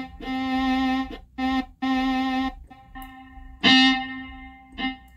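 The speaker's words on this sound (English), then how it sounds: "Auto pan." A sustained synth tone from a Roland Go:Keys keyboard's auto pan effect, rich in harmonics, plays in separate held chords, its level swelling and dipping as if sweeping between sides, with a brighter attack near the end.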